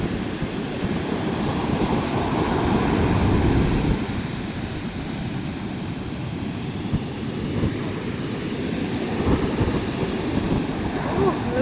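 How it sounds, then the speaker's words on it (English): Rough ocean waves crash and wash up a beach near Santa Marta, Colombia, a heavy continuous roar that swells and eases, with wind buffeting the microphone and no speech. "Look at those waves."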